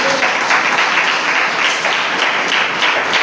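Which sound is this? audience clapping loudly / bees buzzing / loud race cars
audience clapping loudly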